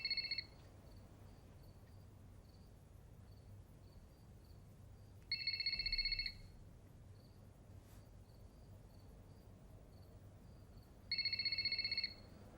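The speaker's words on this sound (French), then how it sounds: "Ne décroche pas le téléphone." A telephone rings in a quiet room, three separate bursts of its electronic ringing spaced several seconds apart, clear and fairly close, with no talk between rings.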